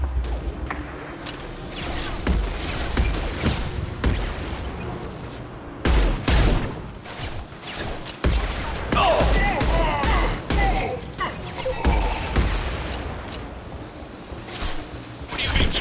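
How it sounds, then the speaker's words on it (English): Heavy gunfire in Mass Effect 2 mixes rapid shots with booms and mechanical clatter, loud and close, under a busy battle soundscape with a few voices. "Taking heavy fire."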